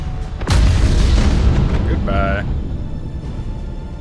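Warship broadside cannon fire in the space combat game Battlefleet Gothic: Armada, a loud booming blast followed by a long rumbling decay, with a short tonal game chirp and a voice speaking over it.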